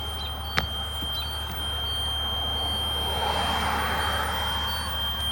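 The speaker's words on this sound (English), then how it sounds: "when you open up the emergency door. You'll hear that buzzer" A bus emergency door buzzer drones a steady electronic tone continuously over low engine rumble, with one brief click near the start.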